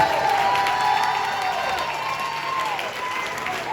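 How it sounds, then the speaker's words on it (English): Wedding guests applaud and cheer for the best man, a loud steady crowd roar of clapping and voices with a higher tone drifting through. "Big round of applause, ladies and gentlemen,"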